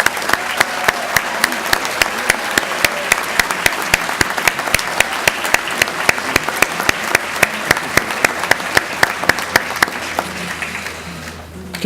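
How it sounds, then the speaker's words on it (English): Master's degree candidates at a spring graduation ceremony receive a full round of applause: a steady crowd wash with one close, sharp clapper keeping a regular beat, fading out over the last seconds. "Let's give all the master's candidates one more round of applause."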